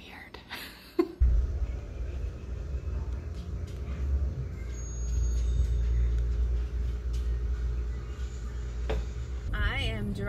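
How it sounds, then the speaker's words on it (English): A car being driven, heard from inside as a steady low rumble of engine and road noise that runs throughout, with a brief muffled voice and thump at the start. "I am driving to Mama's right now"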